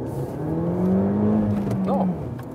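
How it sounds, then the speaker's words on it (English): A Citroen DS3 Performance hatchback pulls away hard from first gear, its engine note rising steadily and loud from inside the cabin for about two seconds before easing off, with no talk over it. "So one more acceleration here from first gear, as we are starting here right now."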